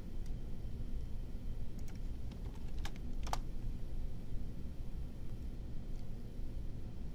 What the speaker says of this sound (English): I can simply start typing in the name of my new created user top owner